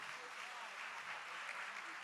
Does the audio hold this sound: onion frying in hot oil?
no